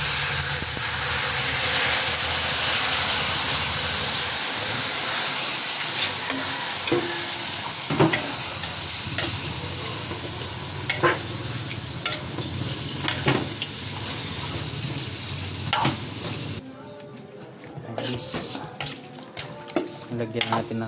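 Pork meat frying in a pan for dinuguan, a steady loud sizzle with stirring and scraping of utensils against the pan, close up, until the sizzle suddenly drops away near the end, leaving quieter clatter.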